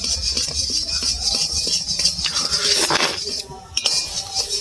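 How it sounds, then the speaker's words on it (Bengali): A spoon stirs a sweet mixture of new jaggery in a pot for mon pithe, making repeated clinks and scrapes against the metal with a brief louder rattle near the end. "এইভাবে নেড়ে যেতে হবে একভাবে।"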